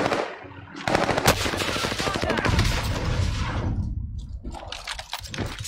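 Rapid automatic gunfire bursts in the video game Call of Duty Warzone, loud and dense with sharp repeated shots, easing briefly near the end before more scattered shots return.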